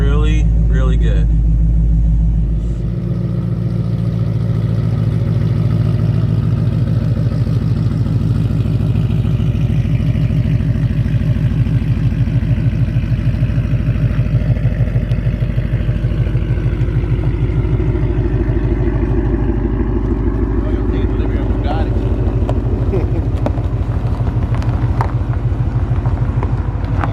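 A Ford Mustang with a rebuilt 10R80 automatic transmission drives along, its engine a steady low rumble heard from inside the cabin, with a voice talking over it.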